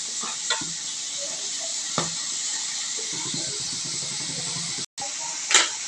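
Boiled cabbage hits a hot pan, and a steady loud sizzling hiss runs throughout, broken by a few stirring knocks and a brief cut.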